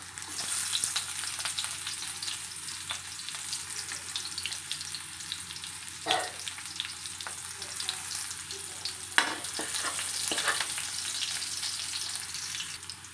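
Onion sautéing in a pan for a vegetable stir-fry, a steady close sizzle with occasional louder bursts from stirring and scraping, no talking.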